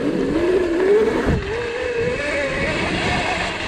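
A 72V electric pit bike rides on ice, its motor emitting a high whine that rises and then falls under hard braking, with a brief thump partway through and a steady background hiss.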